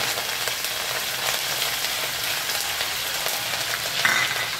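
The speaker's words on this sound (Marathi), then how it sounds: "आपण आता त्याच कढईमध्ये थोडंसं तेल ठेवून आता कढीपत्ता टाकणार आहोत." Curry leaves frying in very hot oil in a kadhai, a loud continuous crackling sizzle close up with steady hiss and a brief sharper pop near the end.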